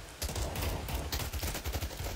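Rapid bursts of Counter-Strike: Global Offensive gunfire crackle in quick succession, dense and loud, with overlapping shots forming a steady barrage.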